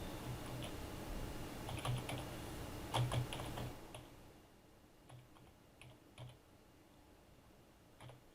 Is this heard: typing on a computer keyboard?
yes